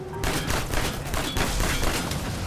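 Mercenaries in Uncharted fire a sustained hail of bullets, dense rapid gunfire filling the whole stretch loudly and continuously with no voices over it.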